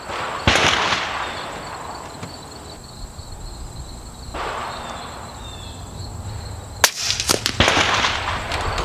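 A Kalibrgun Cricket airgun firing an AVS .25 caliber slug, two sharp cracks several seconds apart with a loud snap near the end, set against steady outdoor background hiss.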